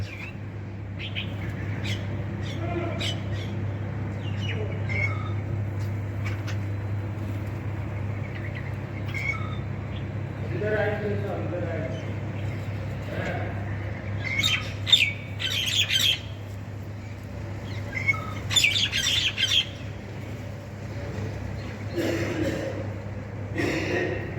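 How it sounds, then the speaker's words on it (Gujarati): Assorted birds chirp and squawk, scattered calls near and far over a steady low hum, growing busier toward the end. "કેટલી જાતના પક્ષીઓ બધા ભેગા છે."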